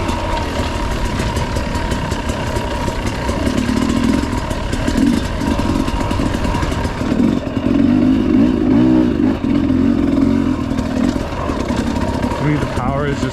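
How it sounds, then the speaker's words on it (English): 2022 Sherco SE 300 Factory dirt bike with a leaned-out carburettor setting, engine running steadily with rough clatter and a few rises in revs, close and loud throughout. "let me know how you think the bike sounds today"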